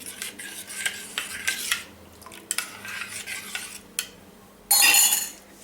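Coffee and boiling water being mixed in a bowl for eggless Christmas tree cakesicles, heard as close scraping and clinking strokes of a utensil against the bowl, irregular and fairly loud, ending in a brief harsh burst.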